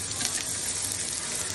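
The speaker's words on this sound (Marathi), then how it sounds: "तर कुकरमध्ये शिजवताना हे थोडंसं बटर घालू आपण फोडणीला, म्हणजे चांगली चव येईल." Butter sizzling hard in a pressure cooker for a tempering before mutton curry, a loud continuous hiss and crackle filling the space close up without pause.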